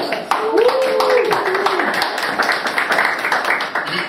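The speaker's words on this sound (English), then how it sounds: "So I want to make sure you can give them a round of applause." Audience applause at a book signing in Harlem, a dense wash of clapping throughout with a voice calling out over it partway through.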